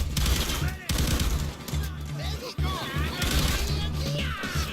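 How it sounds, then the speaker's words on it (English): Weapons firing in Payday 2 during a safe house raid, continuous bursts of rapid shots with brief gaps, someone talking over the gunfire. "The weapon sounds actually a lot different on my speakers than in my headphones."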